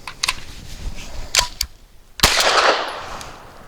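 A Grand Power SP9 A3 Stribog fires 115 grain rounds outdoors: about four sharp reports, several in a quick pair and a louder single shot that echoes away, with no talking.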